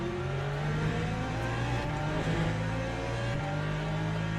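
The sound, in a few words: LMP2 race car engine in Le Mans Ultimate video game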